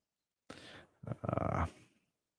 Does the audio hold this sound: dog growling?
yes